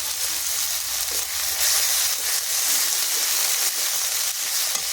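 Ginger-garlic paste and masala sizzle steadily in a hot pan for a Bengali fish curry, a close, continuous hiss of frying with faint stirring scrapes and no talking.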